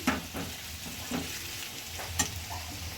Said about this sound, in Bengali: এই যেটা ভেজে নিচ্ছি ভালো করে লাল লাল করে